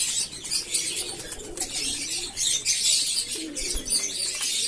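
Pigeons in a loft coo softly and flap their wings, with fluttering bursts and low cooing calls at moderate distance and no voices.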